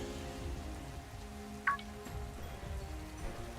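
Steady rain falls in the Pokémon Sword video game on the barren Crown Tundra, a soft continuous patter under low game music, with one brief brighter chime.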